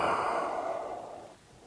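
A yoga instructor's long exhale, a soft breathy sigh that fades out over a second and a half, close to the mic with no speech.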